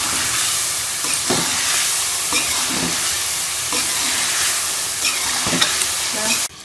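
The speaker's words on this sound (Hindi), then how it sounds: "इसके साथ ही हम ये सारे कुछ मसाले जो हैं वो इसमें ऐड कर देंगे और मसालों को हम दही के साथ ही अच्छी तरह से भून लेंगे चिकन के अंदर" Chicken fries in a karahi with spices and yogurt, a steady close sizzle broken by a few scraping stirs of the spoon against the pan.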